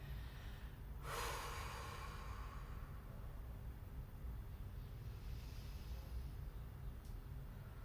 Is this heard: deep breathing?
yes